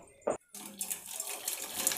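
Water is poured into a cooking pot in a kitchen: a brief splash, a pause, then a steady, close, hissing stream of running water.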